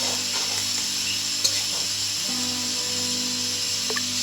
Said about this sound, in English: So we're going to fry the onions on a very low heat.